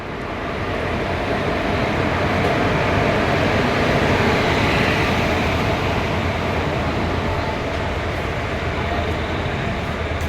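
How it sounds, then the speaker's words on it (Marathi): At Madgaon station, the Matsyagandha Express gives off a steady, loud rumble and roar that holds evenly from start to finish with no clear breaks. "ही आपली आहे 3री ट्रेन कालपासूनची, मत्स्यगंधा"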